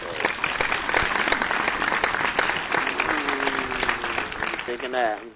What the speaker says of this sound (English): I'm digging the applause